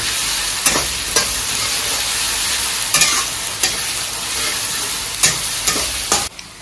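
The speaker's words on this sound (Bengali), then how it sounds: "আমাৰ আদা নহৰুখিনি কিন্তু ধুনীয়াকৈ ভাজি ল'লোঁ" Ginger-garlic paste frying with reddened onions in a pan for a mutton curry, a steady broadband sizzle with several sharp scraping stirs of a spoon against the pan at irregular intervals.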